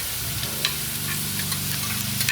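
Papaitan, a Filipino noodle stew, being stirred in a pan: steady, close sizzling with scraping stir strokes and a low hum under it, with no talking.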